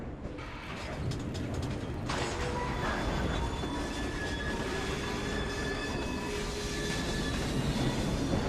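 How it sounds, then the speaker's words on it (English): Train running in the video game Assassin's Creed Syndicate: a steady mechanical rumble with clanking, ratcheting metal and faint wheel squeals, continuous and fairly close throughout. "We fixed up the train for you."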